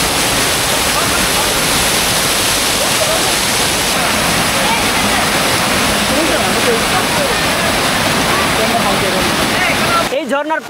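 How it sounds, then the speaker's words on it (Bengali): A multi-tiered waterfall in Sylhet, Bangladesh, roars as a steady, loud, broadband rush of falling water. The torrent holds unbroken for about ten seconds and then cuts off abruptly at the end. "কয়েক ধাপ বিশিষ্ট এমন ঝর্ণা কমই দেখা যায়।"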